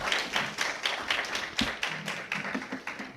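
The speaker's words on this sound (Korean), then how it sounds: "우리 하나님께 감사의 박수를 돌리면서 동시에 우리 목사님을 환영하는 박수를 우리가 또 하면서 목사님을 모시도록 하겠습니다." A Sunday worship congregation at a Korean community church claps to welcome a visiting pastor, with scattered individual hand claps that fall in a loose, uneven rhythm and sound fairly close, without anyone speaking.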